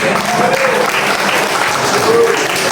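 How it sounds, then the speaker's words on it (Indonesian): An audience at an Islamic school monitoring visit breaks into loud, dense clapping that fills the room for the short stretch, close and steady. "tepuk tangan 3 kali"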